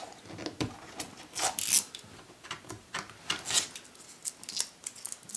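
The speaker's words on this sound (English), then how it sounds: "we're just gonna take a utility knife and cut away this excess" A utility knife cuts excess tape away from a leather tape cast of a foot, making a series of close, irregular scraping and slicing strokes with short pauses between them and no talk.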